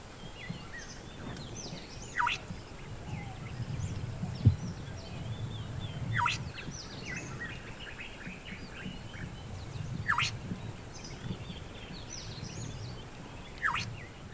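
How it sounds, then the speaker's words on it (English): A black-hooded oriole in Yala National Park, Sri Lanka, gives a short clear whistled call about every four seconds, four calls in all, at moderate distance over steady insect and wind background. "This bird is called the black-hooded oriole."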